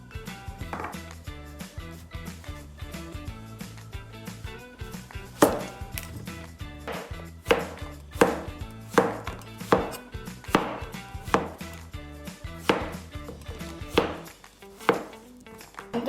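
A knife chops zucchini on a cutting board for lecho in a run of close, sharp, regular thuds, some knocks louder than others, and no talking over the chopping.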